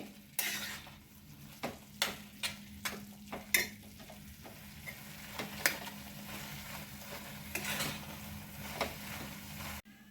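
A bottle gourd barfi mixture with cardamom is sautéed and stirred in a pan. A spatula scrapes and clinks against the metal at an irregular rhythm over a low, continuous sizzle, with no voices.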